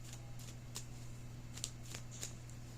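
Moonology Oracle deck cards handled and laid down, a series of soft, quick riffling and flicking sounds against a steady low background hum, fairly quiet and close.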